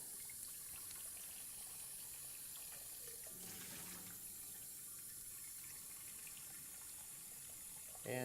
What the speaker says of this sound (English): We're going to put about an inch of water in this pot.